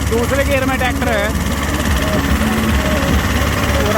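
A 35-horsepower two-cylinder tractor in second gear gives off a steady low engine drone, partly masked by a voice close by.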